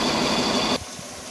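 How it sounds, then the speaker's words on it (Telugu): A water pump motor in an ice factory, pumping water through pipelines under pressure, runs as a loud, steady broadband hum and then cuts off abruptly, leaving near silence. "ఈ వాటర్ మోటార్ ఎప్పుడైతే ఆన్ చేస్తామో ఆన్ చేసినప్పుడు వాటర్ను ఈ పైప్ లైన్ ద్వారా తీసుకొని"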